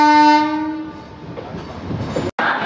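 A passenger train pulls into Vijayawada station. A loud, sustained horn blast opens, then fades into a steady rolling rumble of the wagons coming in.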